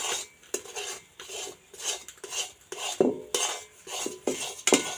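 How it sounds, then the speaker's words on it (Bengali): Semolina is stirred in a metal pan, and a spoon scrapes and knocks rhythmically against the pan in repeated strokes, close and clear with no talking. "এটা কিন্তু ভালোভাবে এইভাবে নাড়িয়ে নিতে লাগবে আর সুজিটা যেন খুব ভালো সেদ্ধ হয়"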